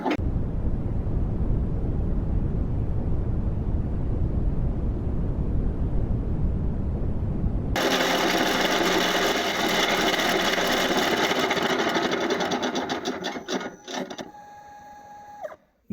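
A harsh, high-pitched grinding of a diamond burr against metal runs steadily for several seconds, then sputters and stops, preceded by a duller rough rasp, while modifying a Suzuki 250 crankshaft.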